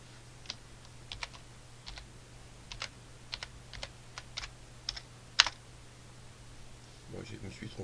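Irregular bursts of computer keyboard typing while setting up layers in Wysiwyg lighting software, quiet keystrokes in uneven clusters over a low steady hum, followed by a brief rustle at the end.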